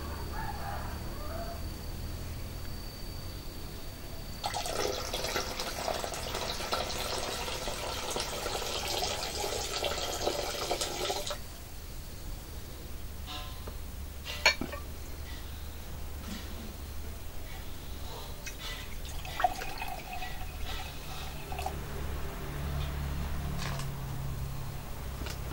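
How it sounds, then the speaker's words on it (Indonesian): Iron sand being washed in water and poured out, a burst of rushing, splashing water for several seconds followed by quieter trickles, knocks and scraping sounds nearby. "Ini kita tumpahkan juga nih teman-teman. Kita cuci dan nanti kita langsung saring aja."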